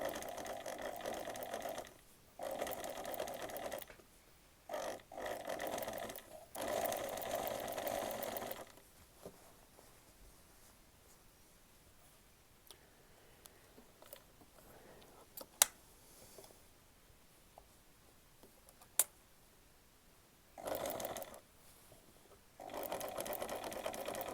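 A sewing machine stitches slowly along a shirt collar in short bursts of rapid mechanical whirring, separated by quiet pauses with occasional clicks, close and moderately loud, with no talking.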